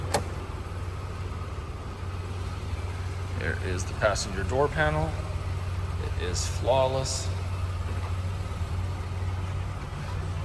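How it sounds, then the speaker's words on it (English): A 1991 Oldsmobile Cutlass Supreme convertible idles with a low, steady, smooth hum throughout, while someone talks over it close by. "Go ahead and leave it running there so you can hear it. There's actually, the engine has a really nice tone to it"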